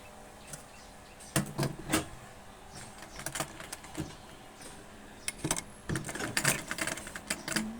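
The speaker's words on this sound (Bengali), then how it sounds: "এটার সাথে আমরা সেলাই করে দিচ্ছি।" A sewing machine stitching a dress for a seven-year-old child makes short bursts of rapid mechanical clatter with brief pauses between runs, close and moderately loud.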